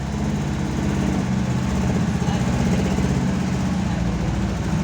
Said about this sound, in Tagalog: pag in-start niya na-start kaya lang katal ng katal ang makina niya oh